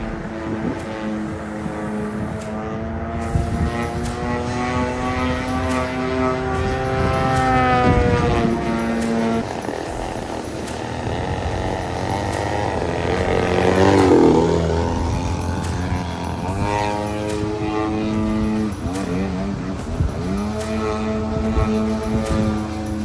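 Propeller airplane flying at an air show, a steady droning engine whose pitch rises and falls as it passes, loud and continuous, no talking.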